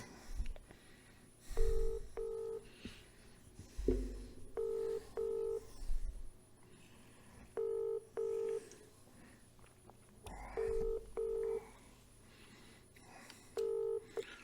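Telephone ringback tones sound in regular paired bursts, each pair repeating every few seconds at moderate volume, after a few short dialing clicks and thumps, with faint background noise and no speech.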